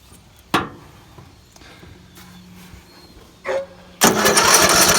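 A Troy Bilt riding mower, primed with starting fluid and choke on, is started: a sharp clunk and low mechanical hum, then a brief cranking burst before the engine catches into a loud, steady close-up roar.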